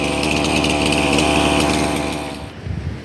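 A petrol chainsaw cuts firewood while its chain is poorly fed with bar oil. The engine holds a loud, steady high-pitched whine for most of the clip, then drops off near the end.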